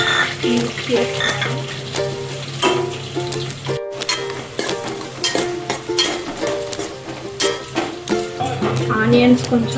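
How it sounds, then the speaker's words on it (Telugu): Onions frying in oil in a pot for a chicken curry, giving a steady close sizzle with occasional stirring scrapes and clinks, while voices murmur faintly in the background. "ఆనియన్స్ కొంచెం ఇట్లా ఫ్రై అయిన తర్వాత ఇప్పుడు పుదీనా వేసుకోవాలి."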